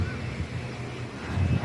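Strong wind buffets a microphone on a rooftop terrace overlooking a highway, a steady low rumble with gusts that swell louder near the end, with no other clear sounds.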